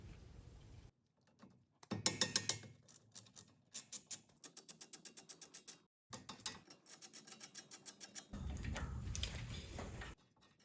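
A 13 mm front brake caliper slide bolt is worked off a 2018 Chrysler Pacifica with a ratchet, giving bursts of rapid, close clicking separated by short pauses, then a longer steady mechanical whirr.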